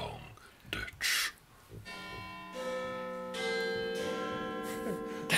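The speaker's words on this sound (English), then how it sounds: "That is one amazing doorbell." A doorbell chimes in a sequence of loud, ringing bell tones, each one hanging on and overlapping the next, after a few brief knocks and short noises.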